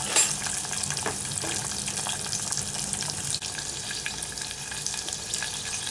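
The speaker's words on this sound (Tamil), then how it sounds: "வெங்காயம் பூண்டு போட்டுக்கலாம். இதை கொஞ்சம் வதங்கட்டும்." Onion and garlic sauté in hot oil in a pan for a Tamil onion tamarind gravy, giving a steady, fairly close sizzle and crackle with occasional stirring scrapes throughout.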